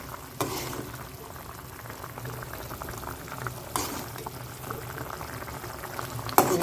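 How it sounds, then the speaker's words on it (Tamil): A spicy tamarind and green chili mixture bubbles steadily in a pot on the stove, a continuous close boil with a few sharper pops and clinks along the way, no talking. "பாருங்கள் நல்லா கொதிச்சிக்கிட்டு இருக்குது"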